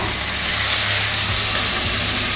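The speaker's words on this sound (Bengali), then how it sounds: "এবারে আমি যেগুলো বেছে রেখেছি সেই মশলাগুলো দিয়ে কষবো। জিরা বাটা" Cumin paste and spices fry in a hot pan, giving a steady, close, continuous sizzle with a bright hiss and no pauses.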